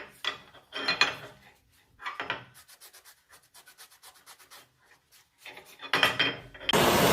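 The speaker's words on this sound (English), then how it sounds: "The part gets cleaned with acetone before it can be welded." A cracked Honda CB77 SuperHawk rearset part is wiped clean with acetone, producing close, intermittent rubbing and scrubbing strokes in short bursts with quiet pauses between them, louder toward the end.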